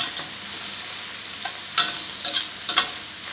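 Vegetables for a special pesto cook over a high flame, giving a steady close sizzle in the pan, punctuated by a few sharp scraping stirs near the end; nobody talks.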